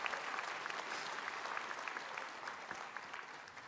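Audience at a Seneca Polytechnic graduation ceremony applauds steadily throughout, a dense, sustained wash of many hands clapping with no speech over it.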